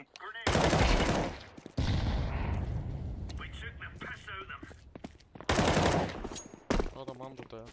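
Gunfire in Counter-Strike 2 on the Mirage map, loud close bursts of rapid automatic shots that come in separate volleys with short pauses between them, and a player talks in the gaps.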